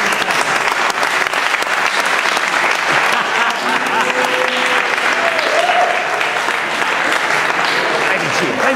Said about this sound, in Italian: Il mio amico Silvio Centamore che merita un applauso